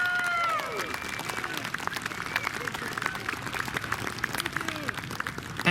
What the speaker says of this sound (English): So let's just give a round of applause for these kids for making it here tonight.